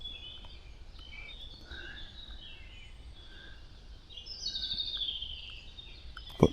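Common chaffinch song at a wild camping spot, faint and distant chirps and trills over soft outdoor ambience, with a brighter descending phrase near the end and a brief sharp knock at the close.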